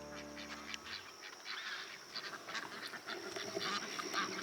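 Ducks quack faintly in the distance on a small farm, scattered calls over a steady outdoor background hiss, with no one speaking.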